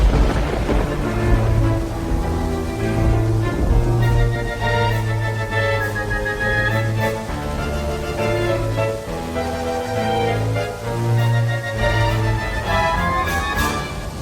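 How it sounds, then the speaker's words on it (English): Nightly simulated thunderstorm in an ant paludarium, with heavy rain hissing steadily and a low rumble pulsing beneath it throughout, loud and continuous. "Here comes the nightly storm."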